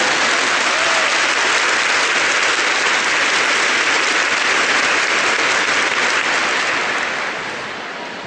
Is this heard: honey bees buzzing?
no